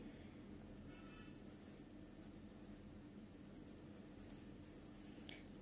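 Pen or pencil writing on paper while an algebra factorisation lesson is worked out, a steady soft scratching that runs through the whole stretch, quiet and close, with no talking over it.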